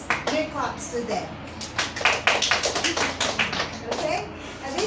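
At a debate event, an audience claps to vote for one side, a burst of many hands clapping mixed with voices talking over it, rising and falling through the few seconds.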